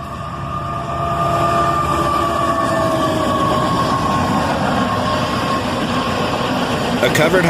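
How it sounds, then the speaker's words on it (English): A CSX freight train led by a GP38-2, followed by a GP40 and another locomotive, rolls steadily past nearby with a loud sustained engine drone and wheel rumble throughout, a faint high squeal on top. "Some awesome power on this guy, with a GP38-2 leading, followed by a G42, and then a GP40."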